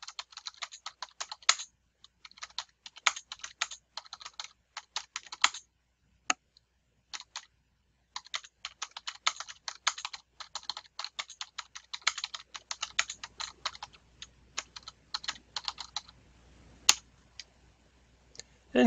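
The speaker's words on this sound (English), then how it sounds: "click on that area and can type in a message for your students" Fast bursts of keystrokes on a computer keyboard, crisp close clicking with short pauses between runs of typing, alone and fairly quiet.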